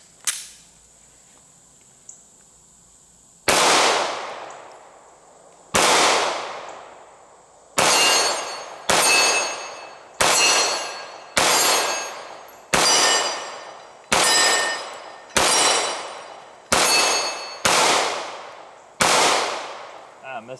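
A Sig Sauer modular handgun fires a magazine at steel targets: about ten loud, sharp shots in a steady rhythm, each followed by a ringing metallic clang of struck steel.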